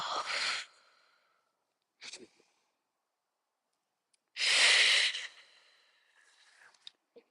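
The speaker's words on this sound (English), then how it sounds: "Inhale and exhale." Deep breaths drawn and released during a qi gong exercise: three separate breathy bursts with quiet pauses between them, the last one the longest and loudest, close and clear.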